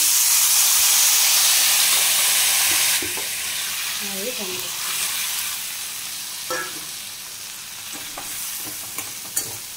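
Hot oil sizzles steadily in a pan while a bhola fish curry is cooked, a loud continuous hiss that drops a little after the first few seconds, with a few faint clinks of stirring.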